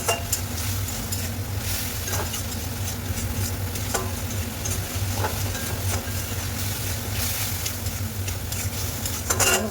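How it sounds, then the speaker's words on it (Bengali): Onion and garlic masala sautéing in a pan, a constant low sizzle with occasional scrapes of a spoon stirring against the metal. "ভালো করে কষাতে হবে, পেঁয়াজ রসুনের গন্ধ হবে।"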